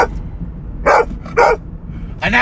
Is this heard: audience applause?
no